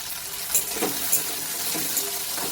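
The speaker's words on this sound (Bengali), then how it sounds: "ধুয়ে রাখা গাঁটি কচুগুলো আমি এই তেলের মধ্যে দিয়ে হালকা করে ভেজে নেব" Taro roots sizzling in hot oil in a pan, a steady crackling hiss with a few louder spits and pops.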